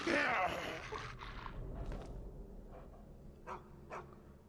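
Dogmeat, the dog companion in Fallout 3, gives a few short yips and whimpers, fairly faint, under a voice that is speaking at the start.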